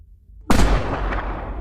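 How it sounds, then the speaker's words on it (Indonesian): A single loud gunshot from a film scene where a mother shoots an agent, a sharp close blast after near silence, followed by a booming echo that decays slowly. "si ibu pun menembak agen Browning dengan sangat keji"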